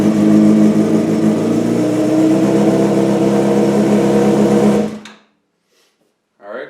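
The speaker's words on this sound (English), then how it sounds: "Alright, so then we just had a successful start, obviously." 2003 Yamaha R6 motorcycle engine idling loudly and steadily for several seconds, then cut abruptly to silence before a brief faint noise returns at the end.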